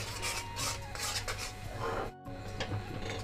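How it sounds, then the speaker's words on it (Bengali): Rice flour being worked into boiling water with a spatula, repeated close scraping and rubbing strokes against the pan in a rough rhythm, with one brief silent gap, no speech. "চালের গুঁড়িটা অল্প অল্প করে ফুটন্ত জলের মধ্যে দেব আর খুন্তি দিয়ে নাড়িয়ে নাড়িয়ে মিশিয়ে নেব"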